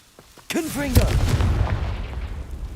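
A Confringo blasting spell in Hogwarts Legacy goes off with a sharp crack. A deep, rumbling boom follows and slowly fades, with a brief wavering, voice-like tone over the start.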